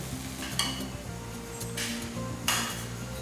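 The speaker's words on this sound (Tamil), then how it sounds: "நல்ல அந்த தோசை வேகும் போதே பார்த்திங்கன்னா நல்ல வாசனையாக இருக்குது" Carrot dosa batter sizzling steadily on a hot pan, a continuous close frying hiss with a few sharp clinks of a utensil against the metal, and background music running low underneath.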